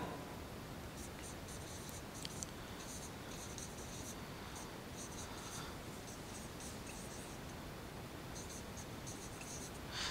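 Chalk or marker writing a sentence on a board in a classroom, scratchy strokes coming in short bursts over steady background hiss, faint and continuous throughout.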